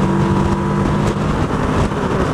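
Kawasaki Versys 650 parallel twin engine pulls hard in a continuous, loud drone with wind roar, heard close from the rider's position without talk.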